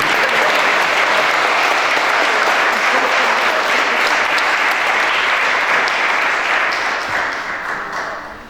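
Loud, dense audience applause fills a hall at a 60th anniversary commemoration of the Rivonia Trial, a sustained roar of clapping that stays full for most of the stretch before fading toward the end.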